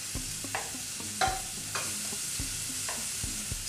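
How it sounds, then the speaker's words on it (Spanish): Onions frying in hot oil, a steady broadband sizzle broken by several sharp scraping stirs, close and fairly loud with no voices. "Dejamos que caliente un poquito el aceite y vamos con las cebollas"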